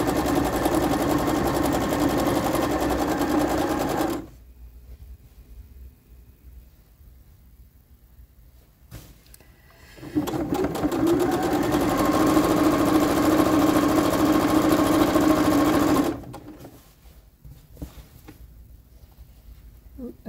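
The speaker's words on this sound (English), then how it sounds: "so just sew my quarter inch seam" A sewing machine stitches a quarter-inch seam on a girl's dress, running in two steady, droning bursts of several seconds each with quiet pauses between, close by.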